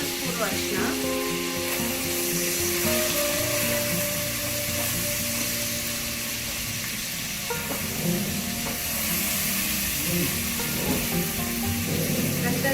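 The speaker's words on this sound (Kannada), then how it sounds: "ಬೆಳ್ಳುಳ್ಳಿ ಪೇಸ್ಟ್ ಕೂಡ ಸ್ಮೆಲ್ ಹೋಗೋವರೆಗೂ ಫ್ರೈ ಮಾಡ್ತೀವಿ" Garlic paste frying in a pan for mutton chilli gives a steady, close sizzle with stirring and faint scraping, under a hum of background noise throughout.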